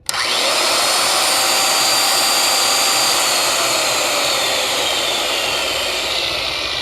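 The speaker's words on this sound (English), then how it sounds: "So what we're going to do here is try to pull a 15 amp circular saw startup" A 15 amp circular saw starts up on a 12 volt battery inverter, its motor spinning up abruptly into a steady, loud, high whine that holds alone without talk.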